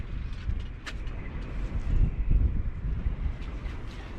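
Strong wind buffets the microphone on the Humber shore during cod sea fishing, a continuous low rumbling roar with gusts swelling and easing throughout, no voices present.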